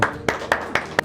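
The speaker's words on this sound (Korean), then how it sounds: "박수를 하나님께" A church congregation clapping in short bursts, about five sharp claps spaced roughly a quarter second apart, close and moderately loud in a reverberant room.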